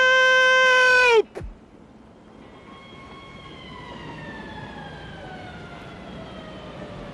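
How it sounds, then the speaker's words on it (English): A police boat siren holds a loud, steady tone, cuts off abruptly, then returns as a fainter, drawn-out wail that slowly slides downward as if far away. "A police boat siren wailed in the distance."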